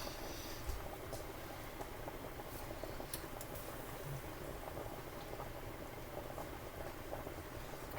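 Noodles bubble in a pot on the stove, giving a soft, steady simmering burble with faint scattered pops throughout.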